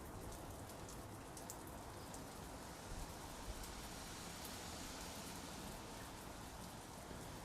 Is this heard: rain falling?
yes